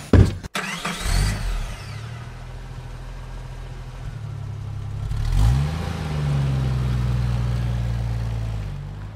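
A car engine cranks and catches with a brief starter whir, then settles into a steady idle that swells with a light rev midway and holds, close and fairly loud with no talk.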